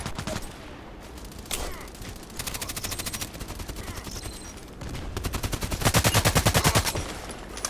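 Rapid gunfire from Contract Wars, with several bursts of automatic shots including a long, loud, close volley near the end, plus scattered single shots between.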